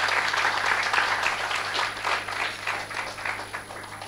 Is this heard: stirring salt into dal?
no